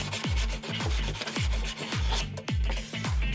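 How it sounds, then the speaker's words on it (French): Rhythmic back-and-forth rasping of a sanding block over a wooden slat, about seven even strokes, close and alone. "Pour obtenir un résultat plus lisse, vous pouvez poncer à nouveau avec le bloc de ponçage."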